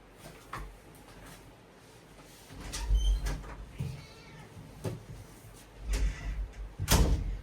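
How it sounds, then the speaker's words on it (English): A cat at a door indoors: soft scratching and thumping bursts against the door come in several clusters, with faint meows mixed in, fairly close and moderately loud, no talking. "Now she's scratching the door."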